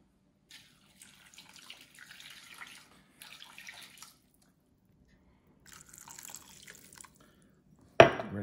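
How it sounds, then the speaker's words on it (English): Water poured into a pan for BBQ ribs: faint, intermittent trickling bursts in a quiet kitchen, ending with a sharp, louder knock or clatter. "let me throw a little water in here."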